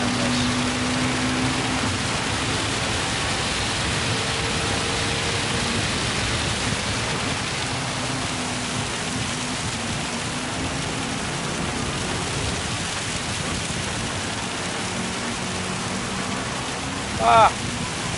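Heavy rain in Gran Turismo 7 at a Gr.4 race, a constant dense hiss with a low car drone beneath it, someone speaking over it and a short sharp sound near the end.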